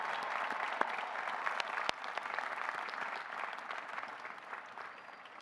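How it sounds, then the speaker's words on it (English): An audience applauds graduating candidates at a 2023 undergraduate morning commencement ceremony, steady broad clapping from a large crowd that holds for several seconds before gently tapering, heard at a moderate distance. "Let's give our candidates a round of applause"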